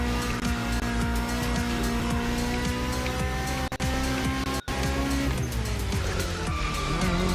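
A 431 hp 1967 Volkswagen Beetle mega bug racing in The Crew Motorfest, its engine droning loud and steady throughout with rising and falling revs, brief tire squeal, and two short dropouts midway.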